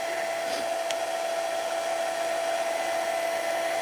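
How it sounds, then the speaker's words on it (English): A heat gun or hair dryer blows in a continuous, even whir with a steady high tone, loud and close, heating layered mixed-media paint and gel medium on an altered IKEA Christmas tree. A faint tap comes near the start. "I'm just heating up with the heat gun or hair dryer"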